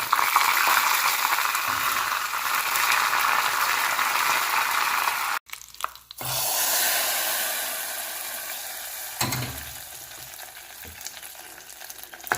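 Dried red chillies and curry leaves sizzling in hot tempering oil for a raw mango paruppu kuzhambu, a loud close crackling hiss that cuts off briefly, returns strongly and then slowly fades; no speech.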